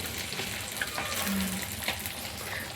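Oil sizzles and fries in a pan of greens, a steady hiss with small crackles and pops, kept low and constant, with no speech.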